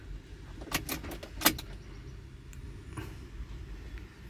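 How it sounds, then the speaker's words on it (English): A key is pushed into the ignition of a Peugeot Boxer van during key programming, with a quick cluster of jangling, clicking metal near the microphone over a quiet, steady background. "Insert the key to be programmed and switch ignition on."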